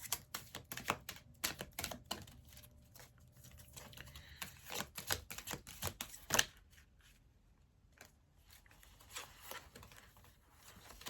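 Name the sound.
shuffling oracle cards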